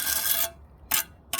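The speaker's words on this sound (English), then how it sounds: "just gently cut off any excess, just with the tip of your trowel" A trowel tip scrapes excess mortar off brick joints in three short, gritty rasps, one long and two brief, close by with quiet pauses between them.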